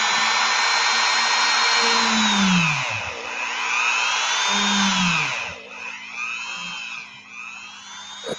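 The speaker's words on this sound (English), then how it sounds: "And re-drill the holes a little bit." A small high-pitched rotary drill whines close up, re-drilling holes in an action figure, its pitch rising and falling as it bites in, in several bursts with short pauses.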